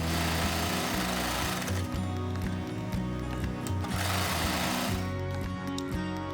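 A sewing machine stitches a fabric face mask, its motor whirring loudly and continuously with a rapid needle rhythm, close up and without talk.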